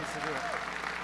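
Applause from a conference audience welcoming a guest at an opening session, moderate clapping heard under a voice speaking over it.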